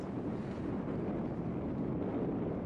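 Gusty wind buffeting a sailboat at a sheltered anchorage behind a sand shoal, a continuous low roar with rumbling microphone buffeting and no voices.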